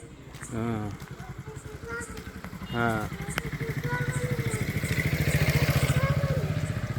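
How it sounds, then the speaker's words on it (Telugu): A motorcycle approaches along a road, its engine hum steadily growing louder and closer over several seconds, with brief voices speaking early on. "ఆగు, బైక్ వస్తుంది, ఆగు"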